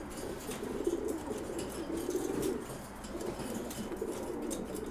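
Pigeons in a loft coo in repeated low, throaty phrases as a hen crouches for a cock during pairing for mating, with the rolling calls overlapping steadily and fairly close throughout.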